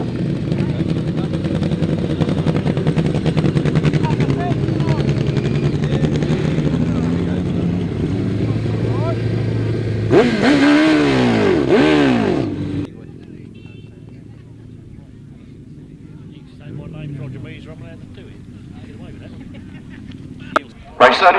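Grasstrack sidecar racing outfits at a 600 meeting pass at full throttle, a loud engine roar that swells and sweeps by with a sharp pitch change, then fades into the distance beneath a public-address announcer.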